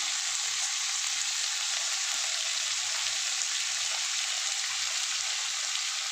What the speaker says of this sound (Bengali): দেখো একটু লাল লাল করে ভেজে নিই